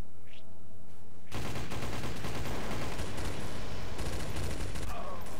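Sustained rapid gunfire bursts out in a chaotic video game firefight after a quieter opening second. It becomes a loud, continuous wall of shots that lasts to the end.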